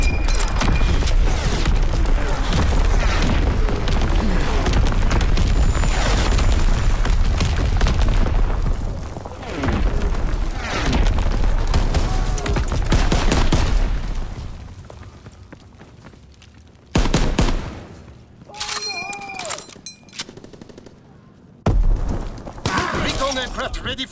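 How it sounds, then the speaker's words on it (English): A WWII video game artillery barrage fires for full effect, with heavy booms and crashing impacts rolling loudly in waves before thinning into sparser blasts; voices talk over part of it. "Firing for full effect. Target zone locked."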